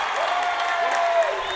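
Home crowd applauding a walk at a Legion state baseball game between Viroqua and Denmark: steady, moderately loud clapping from a small outdoor crowd, sustained without pause.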